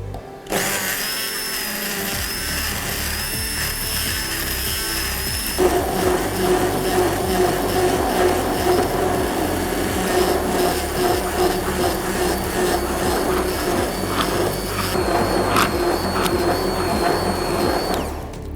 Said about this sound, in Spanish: aquí sí que lo vamos a triturar porque necesitamos que quede bien integrado